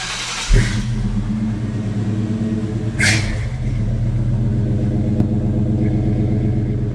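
An old car engine idles with a deep, steady rumble from the exhaust, which has leaking donut gaskets, broken by a brief rev near the start and another partway through.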